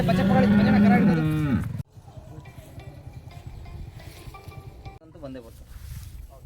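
A loud, long moo from a nearby cow at a cattle sale in Davanagere dominates the opening, then gives way to quieter background noise and a short, higher bleating call from her calf later.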